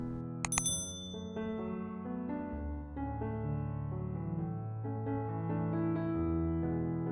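A bright notification bell ding rings out once near the start over a sustained musical backing, its shimmering tone fading quickly.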